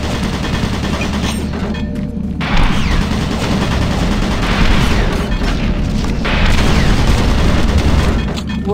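Automated turret guns in Doom 3 fire in loud, dense bursts, a heavy rumbling barrage that swells several times over the span, with no one speaking.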